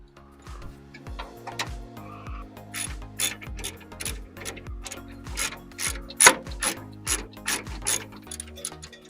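A wrench ratchets off 13 mm bolts holding the radiator on an old Yanmar tractor, giving repeated quick clicking strokes in short bursts, close by, with metallic knocks mixed in and no talking.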